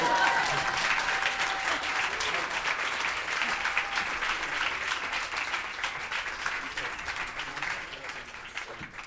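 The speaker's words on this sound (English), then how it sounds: "I think some applause is appropriate." Audience applause after an onstage conversation about music and cardiology, a broad wash of clapping that starts full and slowly tapers, with faint tonal sounds briefly underneath.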